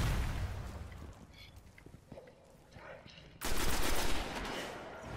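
Gunfire in the Destiny video game on PS4, a dense rapid burst of shots up close that eases, then returns louder and sustained, with a voice talking in between.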